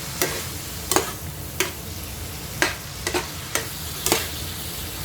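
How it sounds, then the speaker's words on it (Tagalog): Mixed vegetables seasoned with soy sauce sauté in a pan, a steady sizzle punctuated by about eight sharp spatula scrapes at a regular pace, close up with no talking. "Igisa natin hanggang siya brown yung brown na kasi nilagyan naman ng toyo."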